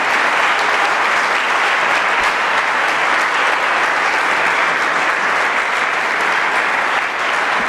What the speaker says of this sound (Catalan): Ens ha emocionat un fort aplaudiment